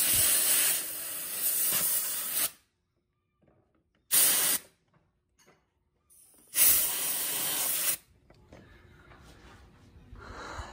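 Two loud hissing sprays of cleaner from a spray bottle while servicing a Kubota zero-turn mower, a short burst then a longer one, separated by near silence and faint handling noises.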